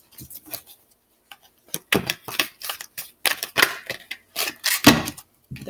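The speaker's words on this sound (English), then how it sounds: "They're big, so it's hard to shuffle." Large tarot cards being shuffled, a series of sharp riffling and slapping bursts in uneven clusters separated by brief pauses, close and fairly loud with no talking.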